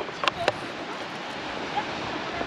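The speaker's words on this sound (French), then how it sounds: "Est-ce que vous entendez ce petit bruit où on se croirait au bord de l'océan? Alors que c'est la mer Méditerranée, elle est agitée aujourd'hui." Surf from a rough, choppy Mediterranean Sea, a continuous windy roar of waves with a couple of sharp splashes near the start, steady and fairly close.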